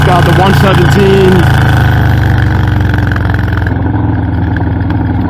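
A Harley-Davidson FXLRS with a Stage 2 M8 117 engine rumbles steadily on a ride, its deep pulsing drone loud and close, with a brief rise in pitch early on before it settles.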